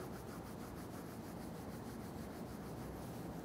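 Hands rub and massage the knees during a seated chair leg workout, giving a steady close brushing friction sound of skin and fabric with no talk.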